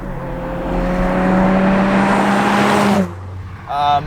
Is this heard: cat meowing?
no